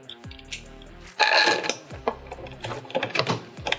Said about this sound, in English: And then just put the other screw in there.